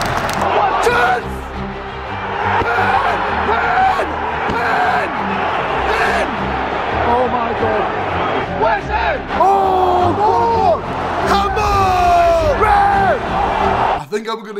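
A football stadium crowd shouts, yells and whoops throughout a match, a dense loud roar with rising cheers and bellowed calls, a nearby voice shouting among the fans.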